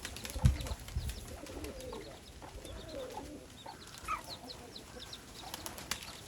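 Pigeons at their nest give soft, faint coos, with a brief knock early on and light rustling in a quiet loft.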